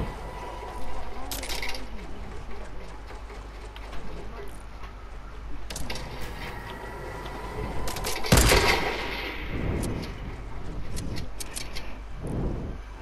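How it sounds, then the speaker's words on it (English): Sporadic gunfire in a multiplayer shooter game, a sniper firing at a base, with sharp cracks near 8.5 s and later bursts under background game noise and occasional talk. "Shooting at our base."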